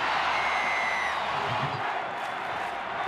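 A large crowd of about 18,000 at a 1995 rugby league match between Manly and Cronulla roars steadily in the stadium, a continuous broad wash of cheering and whoops held at a fairly even level throughout.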